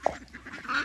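A Welsh Harlequin duck gives a short, sharp quack near a backyard pool, followed by faint fowl murmurs, with no one talking.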